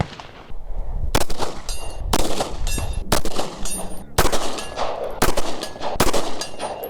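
Black powder revolver shots ring out at long range at a steel gong about 75 yards away: six sharp, loud blasts spaced about a second apart, each followed by a brief ringing clang.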